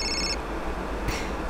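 An electronic telephone ring trills in short bursts, once at the start and again about a second later, fairly close against a low background hum.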